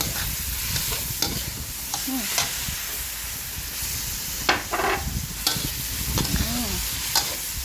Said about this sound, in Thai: เมนูแรกผัดถั่วงอก กับเต้าหู้ไข่เด้อ